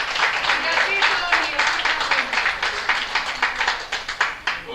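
Audience applause welcoming a speaker onto stage, a dense steady patter of many hands clapping for the full stretch, tapering slightly toward the end.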